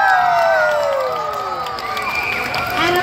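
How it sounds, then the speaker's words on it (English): Cheering, whooping and children's shouts rise from a crowd at West Edmonton Mall for Quinty, and sweeping, gliding whistle-like tones run over the noisy, lively crowd. "everybody, please give a big round of applause for Quinty"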